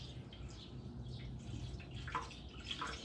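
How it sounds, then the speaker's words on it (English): Non-toxic, water-like rust remover liquid spilling and dripping during restoration work on a 1989 Yamaha TW200 motorcycle, faint irregular drips and trickles over a low background hum. "But it's not good that I spilled it,"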